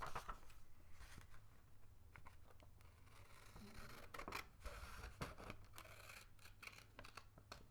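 Scissors snipping paper into separate pieces, a steady run of soft, close crisp cuts and rustles with faint low hum behind, quiet and intimate.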